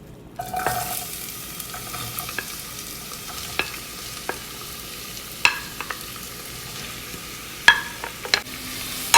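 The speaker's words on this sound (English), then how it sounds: "So now we can put into the pan the onion." Onion frying in hot oil in a pan for a ground beef curry, a steady close sizzle broken by sharp scraping clicks of stirring, with no talking.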